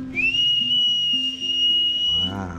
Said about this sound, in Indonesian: Lihat tu, hanya meniup whistle